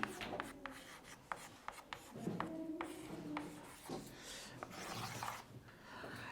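Chalk scratching a heading onto a board during a chemistry lecture on mutarotation, a series of quiet scraping strokes and sharp taps with short pauses between them, close and faint, with no talking.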